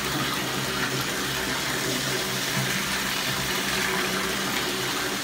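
Water runs steadily from a faucet to fill a ferret's bath, a dense continuous gush heard close up and evenly loud throughout.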